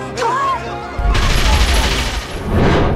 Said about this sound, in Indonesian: A Tommy Gun!